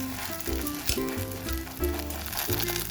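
Fish egg omelette fries in a pan with a loud, continuous sizzle, crackling and spitting close up, with occasional stirring scrapes.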